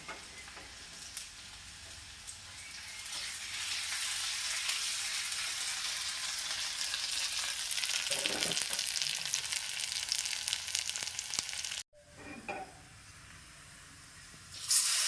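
A tempering of spices and curry leaves sizzles hard in hot oil for a Kerala-style chilli shark curry with kudampuli, a loud continuous crackling hiss that briefly cuts out and then resumes more softly near the end.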